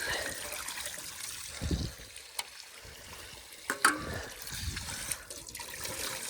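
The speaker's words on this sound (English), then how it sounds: "See how long it takes for the water to get all the way over here." Water running from a newly installed home water system makes a faint, steady trickling hiss, broken by a few soft clicks and knocks, with no voices.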